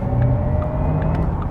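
Inside a Porsche Taycan Turbo electric car, a steady low road rumble and faint motor whine fill the cabin as it pulls hard, loud and continuous with no engine note.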